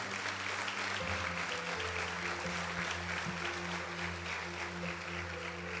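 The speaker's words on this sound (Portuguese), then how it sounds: "Você pode aplaudir o Senhor?" A church congregation at a Portuguese-language celebration service claps, steady applause heard over sustained organ or keyboard tones with a musical background running throughout.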